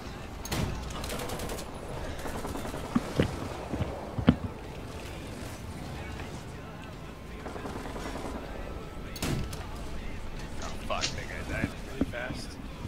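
20 mm autocannon fire in an aerial combat video game, heard as scattered sharp bursts and single cracks spread across the clip over a steady, noisy rumble, with voices talking at moments.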